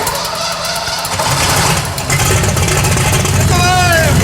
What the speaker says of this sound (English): we can fire up the engine for the first time